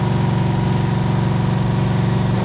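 A car engine idles steadily during a cylinder power balance test of the injectors, a loud continuous low rumble with an even pulsing rhythm and no speech.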